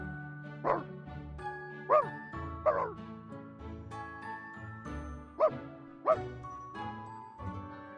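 A puppy in Reverse: 1999 lets out a string of short, bright barks and yips, spaced irregularly over soft tonal game music, close and clear.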